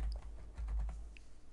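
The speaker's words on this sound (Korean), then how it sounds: "그 다음에 모두 보기라고 입력합니다" A macro name is typed on a computer keyboard in a short, quiet burst of several soft key clicks at an uneven pace, against low background hum.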